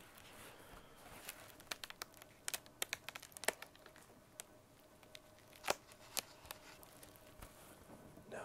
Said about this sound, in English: I just love the sound of that book pages turning.